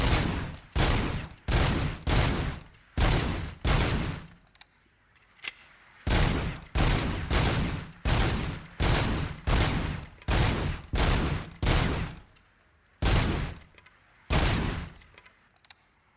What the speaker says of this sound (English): Why am I shooting all these targets?